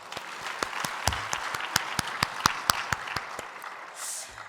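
A church congregation applauds in praise to God during a Korean worship gathering: a sparse, fairly quiet run of distinct, evenly spaced claps ringing in a large room, with no talking over it.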